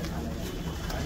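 Pigeons cooing and stirring close by, a soft continuous murmur of calls with faint voices in the background.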